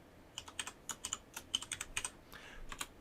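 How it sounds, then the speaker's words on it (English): Keystrokes tap on a computer keyboard in a quick, uneven burst of about a dozen crisp clicks, close and fairly quiet, with no talking. "if you simply type the value date time here"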